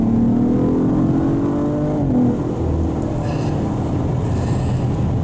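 An Audi RS5 Sportback engine drones steadily and loud throughout on an interstate, with a rising tone suggesting acceleration at speed, no talking.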